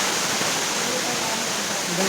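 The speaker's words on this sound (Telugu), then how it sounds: "సూపర్ ఈ వాటర్ ఫాల్." A tall waterfall in a high place roars as a dense, steady rush of falling water, loud and close with no breaks.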